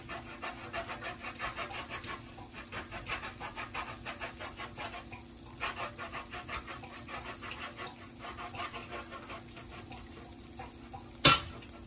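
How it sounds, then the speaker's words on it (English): Cheddar cheese being grated by hand, a soft rhythmic rasping of repeated strokes across the grater, fairly quiet and close, with one sharp clink near the end. "grate some cheddar cheese."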